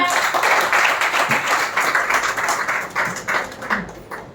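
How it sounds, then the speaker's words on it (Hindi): An audience at an International Women's Day ceremony in a national broadcasting head office claps loudly and steadily for several seconds, a dense, close round of applause that thins out toward the end. "जोरदार तालियां।"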